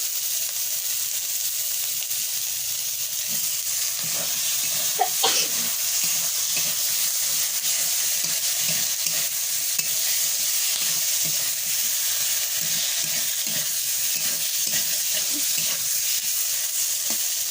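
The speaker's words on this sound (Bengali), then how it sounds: "বন্ধুরা মশলাটা আবার কষাই করা হয়ে গেছে, এবার এই আলুগুলো ছেড়ে দিচ্ছি।" Potatoes sizzle steadily in spiced masala in a pan, a constant hissing fry with repeated soft scraping strokes of stirring throughout.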